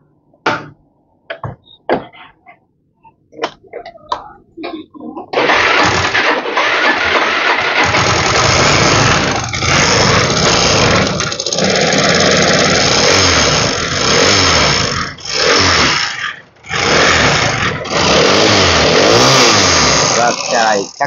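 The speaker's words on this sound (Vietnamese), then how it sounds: "Để mình thử nổ máy xem nào." A Yamaha Nouvo FI scooter with dry, unchanged oil and a loud internal knock: a few sharp clicks and tries, then the engine fires and runs loudly, revving and idling with harsh knocking, dipping briefly twice before picking up again.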